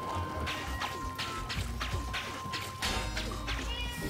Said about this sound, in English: My cat is freaking out.